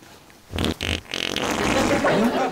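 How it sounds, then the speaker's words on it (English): An armpit fart rings out as a series of wet, sputtering bursts, loud and close, with a rasping stretch in the middle and a trailing squelch. "I'm the school champion at armpit farting."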